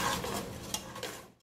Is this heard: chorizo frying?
yes